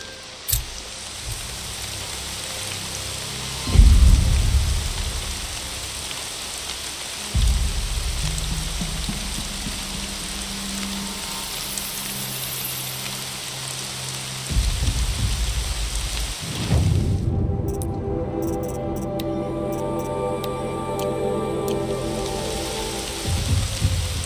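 Steady heavy rain pours throughout a storm in Horizon Zero Dawn, broken by several deep rumbles of thunder, with one closer, louder crack and rolling boom late on.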